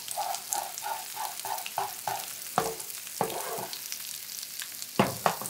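Tofu and sauce cooking in a pan on a stove, a soft steady sizzle and bubble with rhythmic stirring taps at first, then a few clattering utensil knocks; fairly quiet and close.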